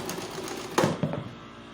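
A sewing machine stitching a gathered layer of a gypsy skirt with a half-inch seam makes one short, quiet whirring burst of needle clatter in an otherwise hushed room.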